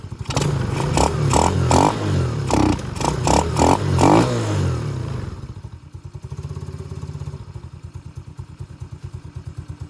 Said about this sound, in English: it's running a little bit low on the idle